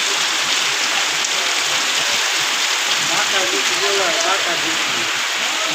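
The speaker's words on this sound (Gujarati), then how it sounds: "કચ્છમાં ફૂલ વરસાદ" Loud, constant downpour in Rapar, Kutch, roaring without pause, with a voice faintly speaking underneath partway through.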